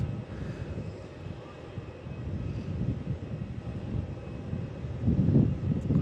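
A departing airliner at Melbourne Airport produces a broad, distant roar that swells steadily over several seconds, with some wind buffeting the microphone.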